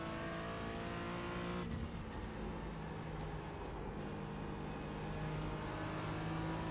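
Race car engine at Canadian Tire Motorsport Park (CTMP) held at a steady, loud drone, with a sharp change in tone near two seconds as the throttle comes back on, then a continuous roar to the end; no talking.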